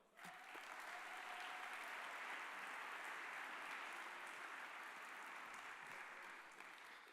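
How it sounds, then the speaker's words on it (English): Conference audience at a conservative political summit gives a sustained, even wash of applause for a speaker, dense and steady throughout with a soft onset and slight fade at the end. "Would you give a round of applause for Greg Schaller?"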